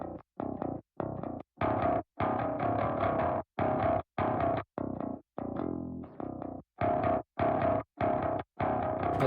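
Metal bass guitar through an amp with a little overdrive and a basic cab, playing a choppy, rhythmic line of short, punchy distorted notes separated by brief silences, loud and close with no talking.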